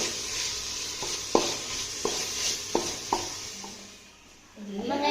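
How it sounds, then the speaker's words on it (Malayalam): Two large tomatoes sautéing in a pan for a pressure-cooker biryani. A steady sizzle runs under regular spatula scrapes about every second, then dips near the end before a brief voice. "നമ്മൾ തക്കാളി ഇട്ടിട്ട് ഇനിയും വഴറ്റി ഇങ്ങനെ കൊടുക്കാം"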